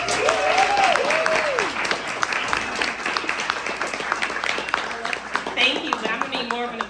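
Audience applause and clapping welcome a comedian to the stage at a stand-up comedy show, a steady moderate crowd sound running under a host's amplified voice.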